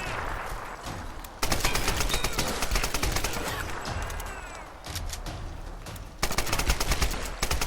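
Rapid bursts of gunfire in the video game Tomb Raider (2013) rattle almost continuously, with loud blasts and brief lulls between volleys.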